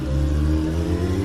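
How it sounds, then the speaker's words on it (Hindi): A motorbike engine speeds up on a road, giving a loud, steady droning rev with strong low hum throughout the short stretch and no talking. "नील ने गाड़ी का स्पीड बढ़ाया"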